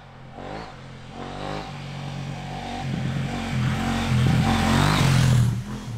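A KTM 790 Adventure R motorcycle engine runs on tarmac, a steady mid-pitched drone that builds and revs higher toward the end, close and continuous without any talk.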